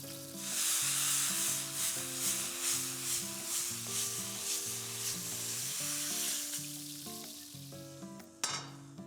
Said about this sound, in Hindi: the mushrooms have a nice crust. They're nicely caramelized from the top.